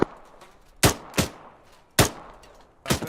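Rifle fire in the military game ARMA 3: four sharp, loud gunshots in an uneven rapid sequence, two close together, then a pause, a single shot, and another near the end, with no talk.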